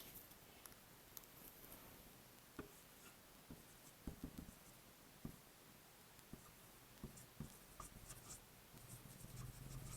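Pen writing a sentence by hand on paper, giving faint, close scratchy strokes and taps in short irregular bursts in a quiet room.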